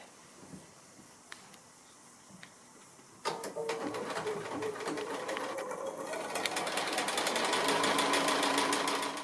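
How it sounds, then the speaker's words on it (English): Sewing machine joining quilt block squares into rows, starting after a few quiet clicks and then running in a fast, steady rattling stitch that grows a little louder toward the end. "I've finished sewing the squares into rows and sewing the 3 little rows together to make up the block"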